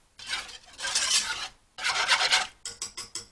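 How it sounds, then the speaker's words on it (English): A spoon scrapes and rasps around a pot of Mexican hot chocolate in long stirring strokes with brief pauses, ending in a series of quicker short scrapes, close and alone. "Stir to gently incorporate."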